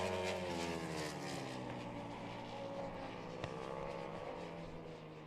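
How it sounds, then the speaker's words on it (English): Ducati Panigale twin-cylinder racing motorcycle engine at a Euro Moto superbike race, a steady droning engine note held throughout, with slowly shifting tones as the bike runs on, fairly distant and unbroken. "He'll be able to hear the distinctive tone of that twin Panigale."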